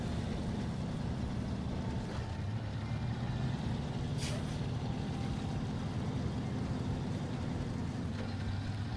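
A Fleet Star truck driving off-road in SnowRunner on Drummond Island, its engine a steady low droning rumble at even volume, with a brief hissing burst partway through.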